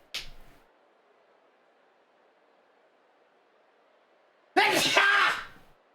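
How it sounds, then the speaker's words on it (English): One loud, close human sneeze sounds near the end, after a brief breathy sound at the start and a quiet stretch. "I have to sneeze."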